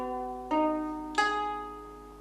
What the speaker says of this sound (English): this ukulele here, which I know for a fact is out of tune.